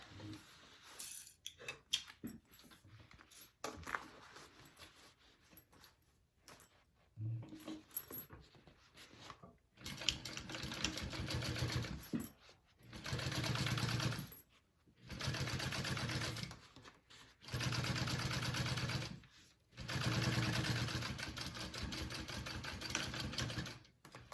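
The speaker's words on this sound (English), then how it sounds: "we want to flip it up, both sides, and we're going to top stitch that" A sewing machine top stitches through fabric while a Wonder Bag is being sewn. After quiet fabric handling and small clicks, it runs in four steady whirring bursts of a few seconds each, separated by brief pauses.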